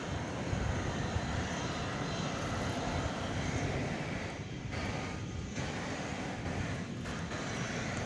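Airliner at Dallas Fort Worth touching down at night, a steady broad roar of engines and air holding loud and close for the whole stretch with no talk.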